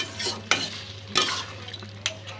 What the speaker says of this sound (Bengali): এ পর্যায়ে আমি মাংসটাকে খুব নাড়বো যাতে তলা থেকে ধরে না যায়